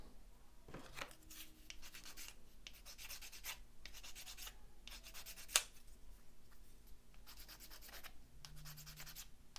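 Necron model kit parts are sanded by hand in close, quiet bursts of scratchy rubbing strokes, separated by pauses, with one sharp click partway through.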